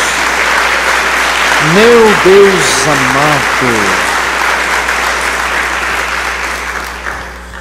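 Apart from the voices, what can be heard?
church congregation applauding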